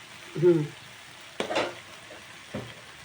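Sambar powder is stirred into a simmering drumstick dish, heard as a few close, brief scraping strokes of a spoon in a pot, separated by quiet pauses.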